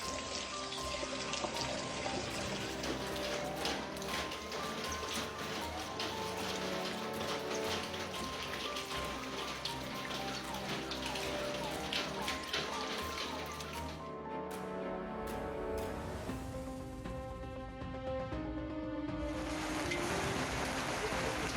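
Heavy rain pours steadily during a storm in Argentina, flooding the streets, with a dense, continuous hiss and patter, loud and unbroken throughout.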